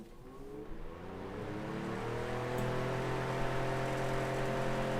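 A Vornado Jr. fan, freshly oiled, spins up after being switched on, its motor hum rising in pitch over a few seconds into a steady whooshing whirr of moving air.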